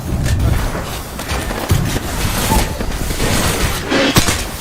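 Gunfire and explosive booms in the battle royale shooter Apex Legends, a dense run of loud shots and thuds with no talk over them.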